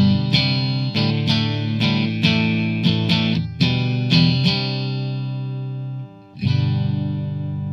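A distorted electric guitar through a Blackstar ID:Core V3 amp on a British voicing plays chords and single strikes with a mid-heavy crunch, each hit ringing out before the next, ending on a long sustained chord.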